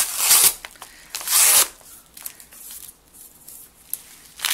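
Scissors cut open a package box of nail lacquer during an unboxing: crisp, papery snips and scrapes come in a few short bursts close to the microphone, with quieter rustling between them.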